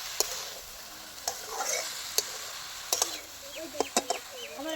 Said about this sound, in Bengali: সবিনটাও আমি দিয়ে দিলাম ভালো করে এবার নেড়ে চেড়ে মিশিয়ে নেব